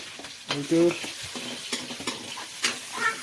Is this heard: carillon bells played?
no